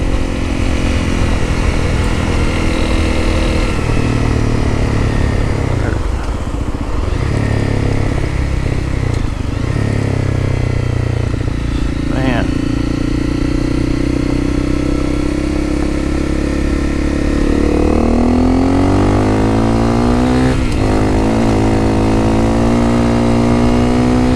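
A motorcycle fitted with 13/42 gearing runs loud and close throughout, its engine droning steadily with rising and falling revs and surges of throttle, on flat open roads.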